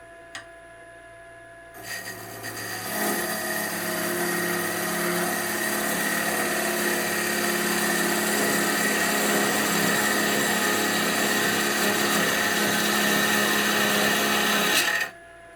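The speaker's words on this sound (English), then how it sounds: "Same RPM, about 1100. But see, this lathe runs absolutely smooth." A Bauer 14 x 20 EVS wood lathe spins up and runs at about 1100 RPM turning jatoba and padauk, a steady smooth motor whine with a faint background hum before and after, close and even.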